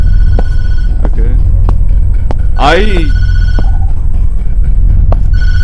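A telephone rings in the horror video game Tattletail, a short warbling ring rising and falling at close range amid a low background rumble, with a brief voice and scattered clicks around it.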